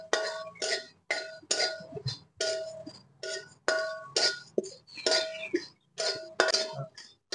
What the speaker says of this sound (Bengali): শুকনো কড়াইতে আমি জিরে ভেজে নেব।